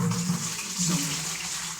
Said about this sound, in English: I'll go ahead and pour the contents of the brew pot directly into the bucket